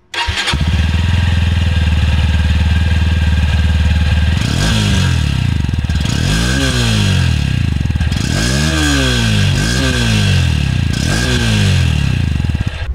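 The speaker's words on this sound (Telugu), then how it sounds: "ఈ బైక్ ఎగ్జాస్ట్ నోట్ ఎలా ఉందో ఒకసారి చూద్దాం." A Honda NX 200 motorcycle starts up and idles with a steady low thump, then its exhaust note rises and falls through a series of sharp, loud revs that recur in quick succession, close by and with no talking.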